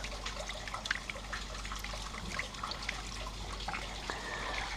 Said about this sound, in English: give that a rinse out.